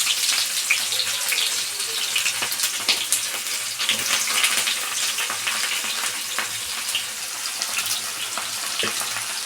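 Chopped onion frying in a pan for a small bitter gourd fry with cumin, a steady dense sizzle throughout with soft stirring scrapes, close and continuous, with no talking.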